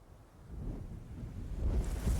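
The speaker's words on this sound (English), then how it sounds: "The sound of wind echoes through the compound." Wind rushing through a compound in the visual novel Fate/Stay Night, a steady, rumbling gust with low-end roar that swells louder toward the end, with no voices.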